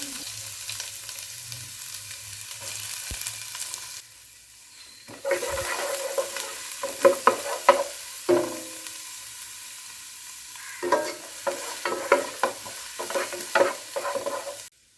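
Chopped onion sautéing in coconut oil for a soya chunk masala, with a spoon stirring through it in bursts of clatter and soft sizzle, close by, with a quieter pause partway through.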